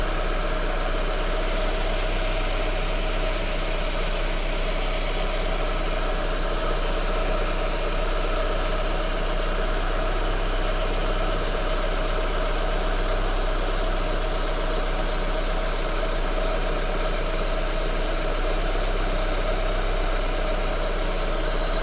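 A car engine idles steadily and loudly during a leak check after a gearbox oil and gasket change, a constant mechanical hum with slight vibration and no voices.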